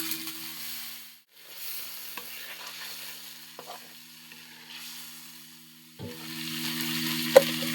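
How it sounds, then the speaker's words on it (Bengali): Duck eggs are added to a pan of frying spiced masala and stirred, producing a soft, steady sizzle with brief scrapes, a pause, then a louder burst of frying near the end. "মশলা কষানো হয়ে গেছে, এবার ডিমগুলো দিয়ে দেবো।"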